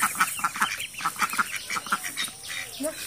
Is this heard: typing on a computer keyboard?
no